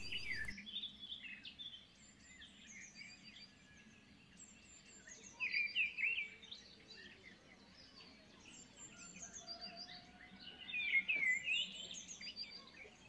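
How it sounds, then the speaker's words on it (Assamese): Birds of several species chirping inside an aviary at the Assam State Zoo, with scattered high calls and short bursts of tweeting over a quiet background hum, fairly faint and spread out. "আৰু ইয়াতে চিনাকি অচিনাকি বহুকেইবিধ প্ৰজাতিৰ চৰাই আছে"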